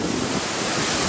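The Boquerón river in Loja, Ecuador flows in a steady, broad rushing wash mixed with wind buffeting the microphone, loud and unbroken for a brief moment.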